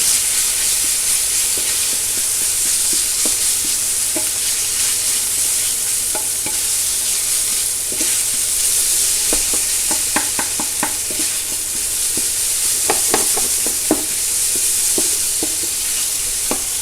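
An eggplant mixture for mapo-style nasu fries loudly in a pan. A constant hiss runs throughout, with bursts of stirring and scraping clatter toward the middle and end.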